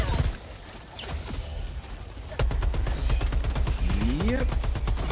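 Shotgun fire in the video game Helldivers 2 starts after a quieter stretch and becomes a rapid, dense run of loud blasts, with a pair of rising whistling tones near the end.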